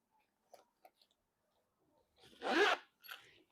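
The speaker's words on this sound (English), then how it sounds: "Now in the back of it, it's got a little zipper compartment." Small zipper on the back compartment of a knitting needle case pulled open in one quick close-up rasp, after a few faint clicks and handling taps, with a shorter second zip just after.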